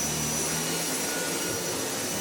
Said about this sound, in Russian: Если я стану, допустим, к вам спиной и буду пылесосить край ковра